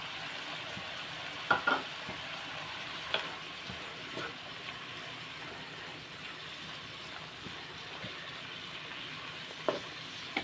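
Cabbage seasoned with chili powder, coriander and cumin powder frying in a pan: a steady soft sizzle throughout, with occasional brief clinks and stirring scrapes, no voices.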